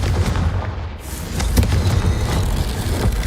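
A Confringo blasting spell goes off in Hogwarts Legacy, a loud, dense, rumbling roar of explosion that stays heavy and sustained through the whole stretch rather than cracking once and fading.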